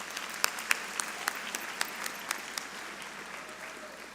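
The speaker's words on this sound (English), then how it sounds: "Let's give our superintendent a big round of applause," Audience applause at a high school graduation ceremony, a sustained wash of clapping with a few sharp, distinct claps standing out near the recorder, fading slightly toward the end.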